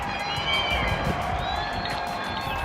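Outdoor crowd in London clapping and cheering for ICU hospital staff, a steady wash of applause with scattered whistles and shouts rising over it for the whole stretch.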